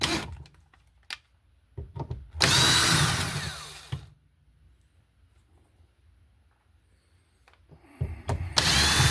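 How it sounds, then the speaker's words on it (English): Screws being backed out of a wet, water-damaged electrical wall outlet. Two short bursts of a power tool whir up close, separated by a quiet stretch with faint handling noise. "we're going to unscrew it from the wall"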